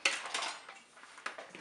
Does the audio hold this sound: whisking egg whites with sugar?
yes